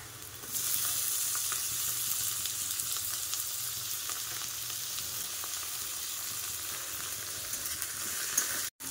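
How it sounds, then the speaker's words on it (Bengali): Spice masala and chopped tomato fry in a pan with a steady, close sizzle that holds evenly throughout, no voices, ending with a brief clatter. "মশলাটা হালকা ভাজা ভাজা হয়ে গিয়েছে"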